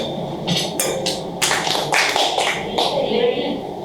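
Audience at a Christmas party clapping: a quick, uneven run of close, sharp claps from several people, with talk mixed in.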